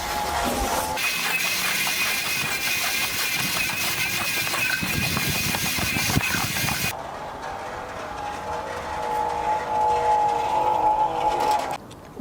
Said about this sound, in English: You just hold your button in and let your spool reel onto your buddy reel.